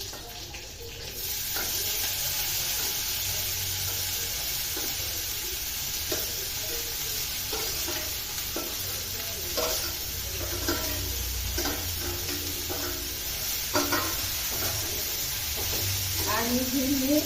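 Mung beans and chopped shepu (dill) greens hiss and sizzle in a hot pan, a steady frying crackle with occasional scraping stirs, under someone speaking at times.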